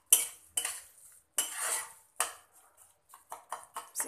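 A metal spoon clanks and scrapes against a pan while semolina halwa with dry fruits is stirred, sharp irregular strikes and short scraping strokes, close and clear, with no talking.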